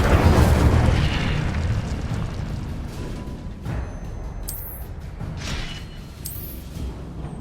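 A fiery spell blast in a video game erupts as a loud, rumbling whoosh that slowly fades, with two brief bright hissing flares near the end and no talking.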